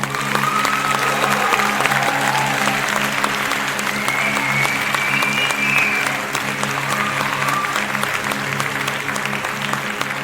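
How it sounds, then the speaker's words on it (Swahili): An audience applauds steadily and loudly at a celebration, dense clapping sustained throughout with a faint voice and some tonal background sound underneath. "Tunapiga makofi kwa ajili ya"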